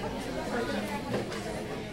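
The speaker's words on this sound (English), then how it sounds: "I know a lot of you guys like coffee shop for the ambient noise," Coffee shop ambience from a noise-generator app, a steady murmur of indistinct chatter and crowd babble at moderate level, continuous without pause.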